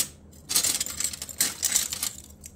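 Fused glass cutoff pieces are dropped into a box nearby, making a bright clinking, tinkling rattle in two close bursts, with no talking.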